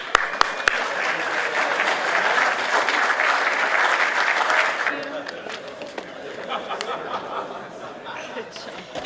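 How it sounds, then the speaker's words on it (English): Audience applause at an SPCA recipient update event, loud and dense for about five seconds, then fading into scattered claps and light chatter with some laughter. "Let's give them a round of applause."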